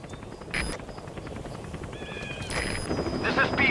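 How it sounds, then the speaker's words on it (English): An extraction helicopter arrives in Metal Gear Solid V, a steady broadband rotor wash swelling slowly louder over a few seconds, with short electronic tones and chirps cutting in above it. "I'll send the extraction chopper."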